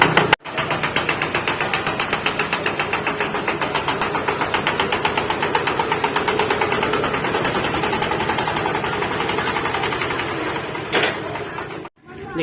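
A modified ride-on farm tractor engine from Long district runs steadily up close, its rapid, even mechanical knocking beat loud and constant, with no talk.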